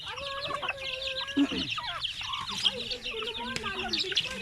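Chickens cluck and a rooster-like call rises amid busy farmyard fowl chatter, with voices murmuring in the background throughout.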